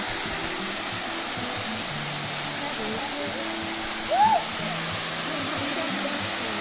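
Bailan waterfall in Mambusao, Capiz, Philippines, a steady broadband rush of falling water throughout, with people talking faintly over it and a brief voice rising out of the roar.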